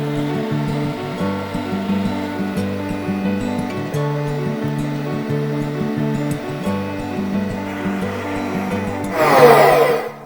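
Meat being ground a second time for raw kibbeh, a steady motorized hum with pitch wobbles and a rougher grinding surge near the end.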